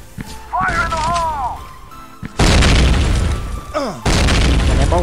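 Grenade blasts in the mobile shooter Phục Kích Mobile hit as heavy booming explosions, two loud detonations with rumbling tails, set among game sound effects and excited talk from a player.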